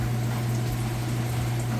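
Kenmore washing machine in its spin cycle while pumping out rinse water, a steady loud motor hum with a constant low drone and gurgling water flow underneath, continuous and close.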